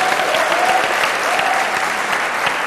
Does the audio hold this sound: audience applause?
yes